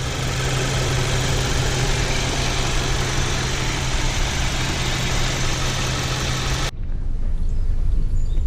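Turbocharged engine of a 2020 Volkswagen Jetta GLI Autobahn edition, the 228-horsepower unit shared with the GTI, idles with a steady, dense drone and a low hum, then cuts off abruptly near the end.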